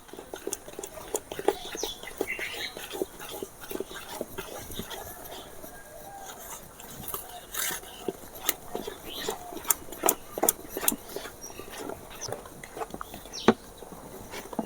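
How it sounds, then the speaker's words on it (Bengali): Batter for a two-pound homemade birthday cake is beaten by hand, making quick, irregular tapping and clicking strokes against the bowl, fairly quiet and continuous. "তারপরে আরও দশ মিনিট ফেটে নেব যত ফাটবেন কেকটা তত নরম হবে"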